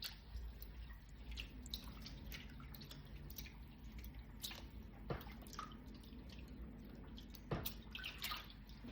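Food being rinsed and washed in water by hand, with steady splashing, dripping and swishing throughout against a constant low background hum, close and moderately quiet, with no speech.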